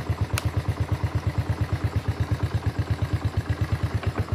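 A motorcycle engine idles close by with a steady, fast, even putter of evenly spaced pulses, a fitted LED lamp running off the battery.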